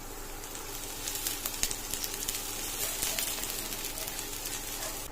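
Onion frying in hot oil in a heated wok, a steady fine crackling sizzle with scattered sharper pops, moderately close and continuous throughout.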